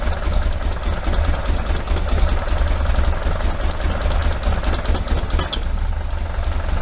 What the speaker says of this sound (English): it's idling faster though